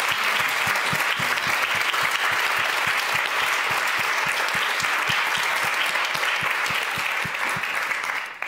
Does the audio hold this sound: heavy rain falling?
no